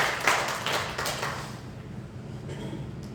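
A church congregation breaks into a burst of dense clapping that fades out after about a second and a half, leaving quiet room tone.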